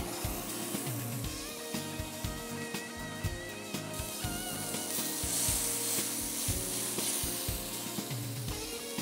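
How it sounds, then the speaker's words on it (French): A steak pan-frying, seasoned with pepper and fleur de sel, gives a soft, continuous sizzle over several seconds, heard at moderate distance under other tonal background sound. "je vais poêler ce steak"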